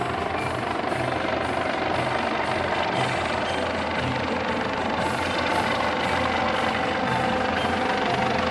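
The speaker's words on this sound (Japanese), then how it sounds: "まもなく消防ヘリコプターカモメが上空を通過します。" A fire department helicopter passes overhead during a New Year fire brigade review parade in Tokyo, a steady loud rotor and engine drone with rhythmic blade pulsing throughout, no talking.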